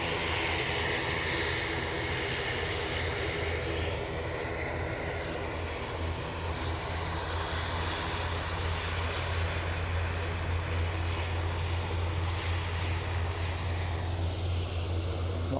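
Turboprop aircraft at Aberdeen airport give off a loud, continuous engine roar with a deep steady propeller drone that holds throughout, with no talk over it.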